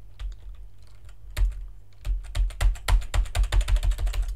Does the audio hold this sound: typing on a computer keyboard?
yes